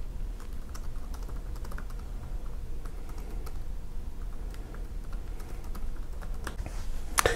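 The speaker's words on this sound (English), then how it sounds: "you would actually type a number, and you can hit a period, and then you put a space" Fingers type on a computer keyboard with a steady run of quick, light key clicks close by. A louder tap comes near the end. Nobody speaks.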